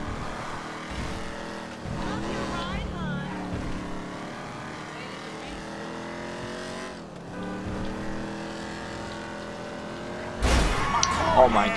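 In Grand Theft Auto V, an engine roars and shifts pitch through gear changes while the car weaves through traffic, with a louder burst near the end. A player talks over the driving.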